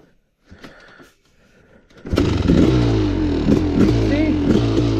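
A Kawasaki KX500 motorcycle engine starts after quiet handling noises, then idles and revs loudly and close with a rough, pulsing two-stroke rattle.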